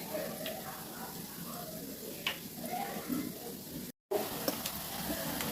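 Batter-coated purnam burelu (sugilu) sizzle in hot oil in a pan, a steady crackling fry with faint stirring clicks and a brief moment of silence partway through.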